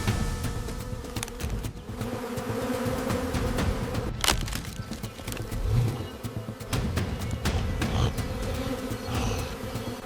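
A swarm of bees buzzes steadily and fairly loudly as a honey badger raids their nest in the wild, mixed with scuffling, thumps and occasional sharp cracks.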